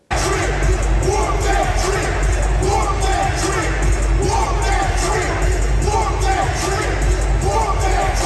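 A Memphis arena crowd roars along to an anthem at an NBA game, a dense, constant wall of cheering and chanting with thumping music underneath.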